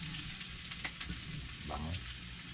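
Ginger sizzles in a hot pan with a continuous close frying hiss, broken by a few soft stirring scrapes.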